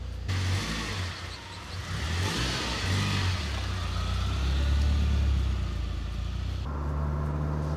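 An old BMW with a faulty clutch slave cylinder drives and accelerates, its engine droning loud and close the whole time, with pitch swells as it pulls through the gears and no voices.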